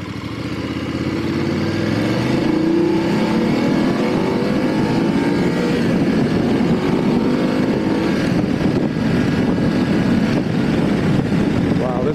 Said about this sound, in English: Well, pretty nice, huh? Engine sounds great.